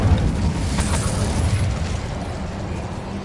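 Incendio fire spell cast in Hogwarts Legacy, a dense roaring burst of flame that stays loud throughout and thins slightly toward the end.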